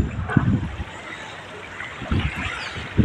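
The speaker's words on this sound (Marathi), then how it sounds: "मुंबईतील हा समुद्र" Sea waves wash in on the Mumbai shoreline in two rumbling surges, one early and one late, with a quieter hiss of water between them, heard alone and fairly loud.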